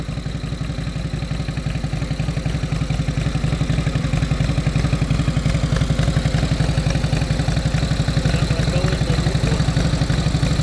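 A 1946 Indian Chief motorcycle engine runs steadily nearby, with a loud, even, rapid firing pulse and mechanical clatter that holds throughout and rises slightly in level.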